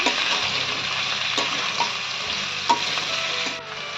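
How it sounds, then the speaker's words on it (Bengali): Chopped bottle gourd stir-fries in a pan with green chilies, a loud continuous sizzle broken by a few sharp spatula scrapes and knocks, heard up close with no voices. "আর কেটে রাখা লাউ। ভালো করে কষিয়ে নেব।"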